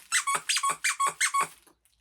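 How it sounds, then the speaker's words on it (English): A small squeaky ball toy for a dog squeezed six times in a quick, even rhythm, each squeak sharp, close and loud, followed by silence. "My dog likes to hide under my bed, and because of that, I have a squeaky toy."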